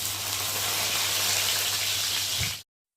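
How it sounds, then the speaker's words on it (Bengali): A katla fish head fries in hot oil in a pan, giving a steady, even sizzling hiss that carries on alone before cutting off abruptly. "এই মাছের মাথাটা একটু ভেজে নেবো ভালো করে।"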